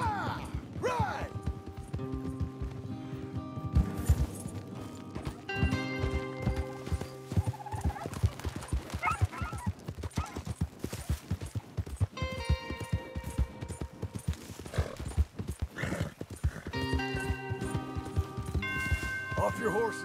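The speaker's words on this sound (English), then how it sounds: "Off your horses here. We'll be better on foot." Horses galloping in Red Dead Redemption 2, with steady clip-clop hoofbeats, occasional whinnies and a musical score underneath.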